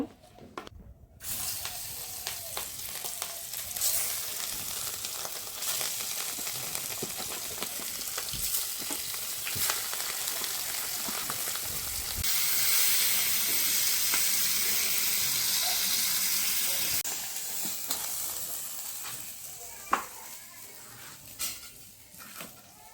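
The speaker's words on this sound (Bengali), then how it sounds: "এখন আমি গরম হয়ে গেছে তেলটা মাছগুলো ভেজে নেব" Fish frying in hot oil in a wok, a continuous close sizzle that swells louder midway with occasional clinks and stirring scrapes, no talk.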